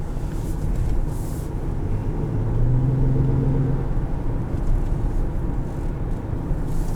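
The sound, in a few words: 2015 Honda Pilot EX-L driving, 5-speed automatic transmission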